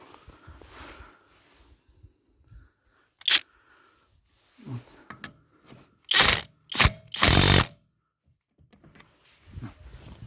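A budget Stromo AWA25 impact wrench working on car wheel nuts, giving short mechanical bursts and then several loud, close rattling pulses with quiet gaps between them.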